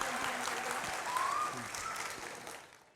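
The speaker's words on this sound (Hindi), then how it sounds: "सो प्लीज़ तालियां हो जाएं।" An audience claps at an evening event after a dance performance, a dense steady round of applause that fades near the end.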